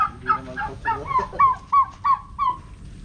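A series of loud honking turkey calls, several in quick succession, harsh and nasal, close by on a farm with no talking.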